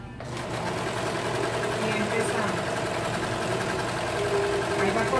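Overlock serger stitching a seam and trimming the thread ends, a steady fast mechanical whir running continuously from start to finish, close and moderately loud.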